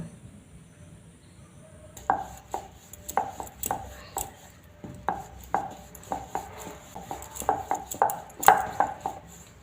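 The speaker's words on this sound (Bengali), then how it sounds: "এইভাবে সবগুলো আমি বেলে নেব" Masala paratha dough being rolled out on a board, with irregular wooden knocks and taps from the rolling pin against a quiet kitchen background.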